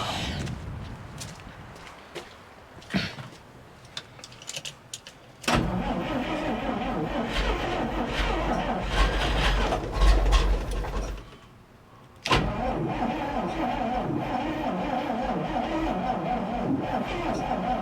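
A 68-year-old REO dump truck engine cranks with a few uneven attempts, then catches and runs with a steady, rough mid-pitched rumble, briefly cutting out before restarting; people talk nearby.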